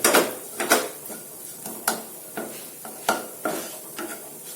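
Stuffing being stirred into green tomatoes in a pan, with a series of sharp scraping and clinking strokes of a utensil against the metal at an uneven rhythm, close and fairly loud, with no talking.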